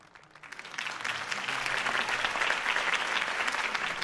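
Crowd applause for Harvey Dent's campaign speech in Batman: The Telltale Series, rising from light clapping to a full, sustained ovation from a large audience, with no talk over it.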